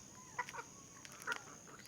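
Rhode Island White chickens give a few soft, short clucks, faint and close against a quiet background, with small irregular bursts of sound.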